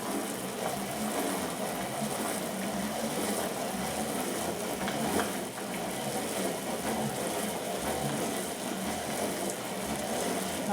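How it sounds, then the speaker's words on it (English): An electric grinder grinds soaked dal for Guyanese pholouri, giving a steady, dense whirring drone at an even level for the whole stretch, with no speech over it. "grinding the dal here"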